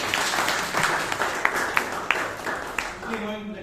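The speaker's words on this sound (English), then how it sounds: "Can a round of applause for all of them?" An audience at a Toastmasters meeting claps for the speakers and evaluators, with scattered distinct claps under ongoing talk and a steady wash of applause that thins out toward the end.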